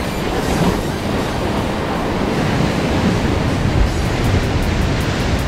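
Ocean waves crash without letup against a rocky shore at Niebura, Mie, a loud, dense surf roar filling the whole clip, close by and with no voices.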